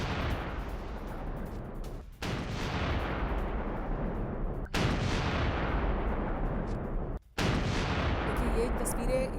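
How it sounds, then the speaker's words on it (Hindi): A gas station explosion in Zhytomyr, reportedly from a Russian strike, comes through as loud, sustained roaring blasts in several abrupt segments separated by brief cutoffs, with no voices. "ये दरअसल एक धमाका था"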